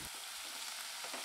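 Onion and tomato sauté in hot oil in a pan for a cucumber buttermilk curry, a steady close sizzle broken by brief stirring scrapes.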